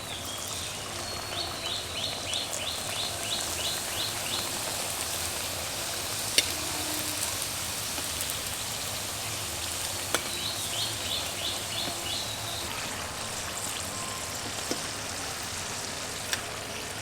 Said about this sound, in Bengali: এখন সিঙ্গারাগুলো একটা একটা করে দিয়ে ভেজে নেব।